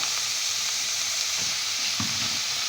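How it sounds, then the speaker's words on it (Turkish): Cauliflower cooks in a pan over browning tomato paste, a steady loud sizzle and hiss close by, with a couple of soft knocks and stirring sounds toward the end. "Karnabaharımızı koyuyoruz. Şimdi bu yavaş yavaş kavrulacak."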